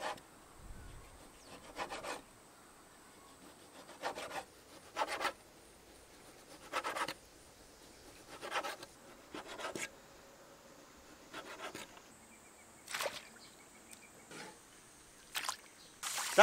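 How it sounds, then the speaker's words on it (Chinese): A knife slicing beef heart on a cutting board: about ten short rasping strokes spaced roughly every second or two, each a brief scraping cut against the board, in an otherwise quiet room. "把牛心切成片"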